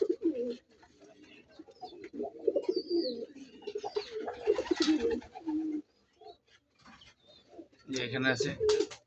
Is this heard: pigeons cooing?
yes